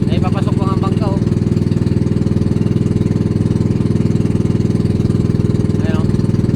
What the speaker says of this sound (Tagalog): Ay papasok pa ang bangka oh.